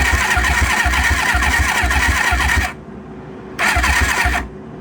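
An engine with low compression being tested cranks over on the starter without catching, a loud, close rhythmic churning in two bursts, a longer one of about two and a half seconds, a short pause, then a brief second crank.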